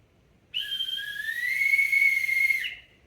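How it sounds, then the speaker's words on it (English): A single shrill whistle blown in one sustained blast of about two seconds, loud and close, its pitch wavering slightly before it cuts off. "You want to blow the whistle, don't you? Blow the whistle."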